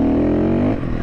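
A 2022 KTM 350 EXC-F dirt bike engine lugs in too tall a gear, a steady close-up drone with a strong low hum that thins briefly near the end.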